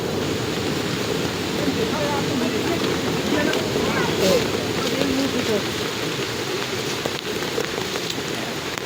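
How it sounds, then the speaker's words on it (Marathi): Water rushes along a stony path in heavy rain at Pachmarhi, a dense, steady wash of flowing water and rain that never lets up, close and fairly loud. "हे बघा गाईज इकडं पाणी वाहत चाललं आहे सगळं"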